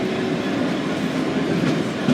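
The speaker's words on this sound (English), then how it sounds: "So we've got 57303 departing and 66714 coming through." Class 66 freight locomotive 66714 in Chroma Lifeboat livery rolling through Manchester Piccadilly station, a steady loud rumble of engine and wagons with no pauses, close by and without voices.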